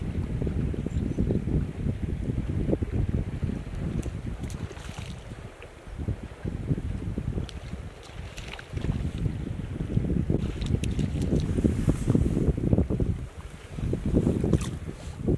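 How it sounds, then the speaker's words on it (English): Wind gusts across an outdoor trout stream, buffeting the microphone in loud, rough bursts that swell and dip over a steady rush of moving water. "The wind's picked up"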